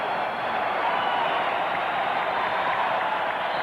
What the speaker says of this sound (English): Crowd trying to get the Lakers going here